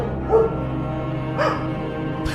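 Dogs bark in a few short, sharp yelps over a low droning background, used as a sound effect under dark storytelling narration.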